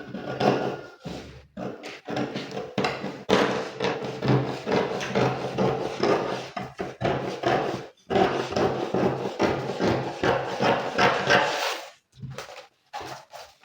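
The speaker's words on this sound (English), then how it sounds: "So right now I'm going to cut the sides." Scissors cut along the sides of shirt fabric on a table, with a series of close, crunchy snipping bursts in an irregular rhythm and brief pauses between strokes.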